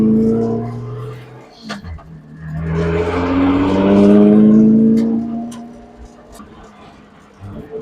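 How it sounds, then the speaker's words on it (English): A loud 575 hp JZ-engined S13 drift car drones and revs inside the cabin, rising to a roaring peak midway before easing back, with a few voices talking over it. "Drift cars be loud inside, huh? Very loud."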